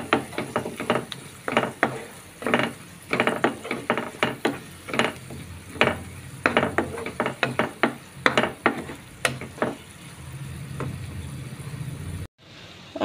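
Tomatoes and ginger-garlic paste are stirred in a pan, making repeated scraping and clacking strokes in a quick, irregular rhythm over a soft sizzle, close and fairly loud.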